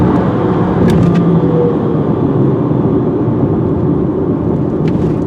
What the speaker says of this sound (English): There's that CVT drone.